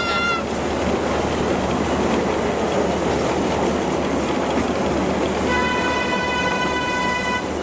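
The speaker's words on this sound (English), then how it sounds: "Accompanied by the alarms and the fumes of a diesel engine train." A diesel park train at Pleasurewood Hills amusement park rumbles along steadily and loudly, with an electronic alarm tone sounding at the start and again near the end.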